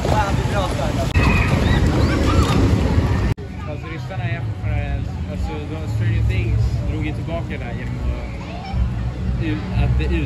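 Boat on a wet water ride at Liseberg amusement park, with continuous rushing splashes and wind buffeting close to the microphone, loud throughout, while voices chatter and shout over it.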